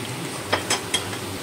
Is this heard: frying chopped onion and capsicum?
yes